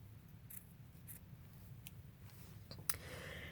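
Scissors snip through a narrow strip of paper for a junk journal, a few faint, crisp cuts spaced apart in a quiet room, with one sharper snip near the end.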